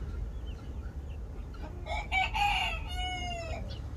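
White grouse chicks outdoors peep and chirp in short bursts, with a clear run of high calls midway, close and moderately loud over steady ambient noise.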